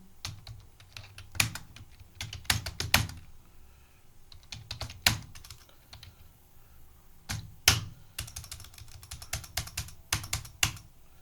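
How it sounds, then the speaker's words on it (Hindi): Someone types on a computer keyboard while entering amounts in TallyPrime accounting software, giving close, clicky keystrokes in irregular bursts separated by brief pauses. "अब इसका अमाउंट टाइप कर देना है, एंटर प्रेस करना है।"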